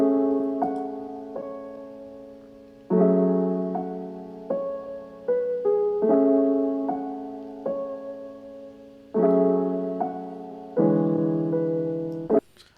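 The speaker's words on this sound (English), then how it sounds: "what I have now is that I have a piano sample" Soft piano chords played in a slow, mellow pattern, each chord struck and left to ring and fade, close and warm with no other instruments.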